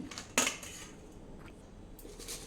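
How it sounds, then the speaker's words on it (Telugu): Fried dried red chillies scraped from a pan onto a plate, one sharp metallic clatter followed by lighter faint scraping and a soft clink near the end, close and without talk. "ఒక ప్లేట్లో తీసేస్తున్నాను"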